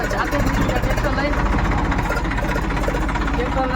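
A tractor engine running steadily at a low throbbing idle, loud and close, with a rapid even pulsing rhythm and some background voices.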